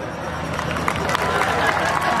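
Dense, steady clapping from a live audience at a Nepali stand-up comedy performance by Manoj Gajurel, a continuous wash of many hands with crowd murmur mixed in, sustained at an even level throughout.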